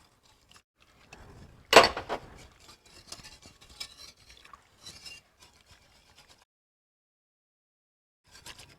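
A whisk works milk and stock into a roux for potato soup, with a loud metallic clatter against the pot early on, then light, irregular stirring clicks and scrapes that fade to near silence before a brief return at the end.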